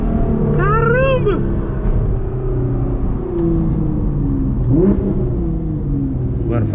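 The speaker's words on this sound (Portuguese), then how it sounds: "o ronco do carro é absurdamente alto" A Nissan GT-R R35 tuned to 730 horsepower roars loudly and steadily throughout while accelerating, its deep engine rumble heard up close with faint higher tones drifting over it.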